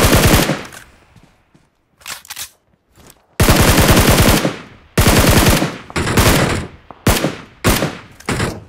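Rapid automatic gunfire knocks down an enemy in BGMI on an iPhone XR, a string of loud, sharp bursts of varying length broken by brief pauses.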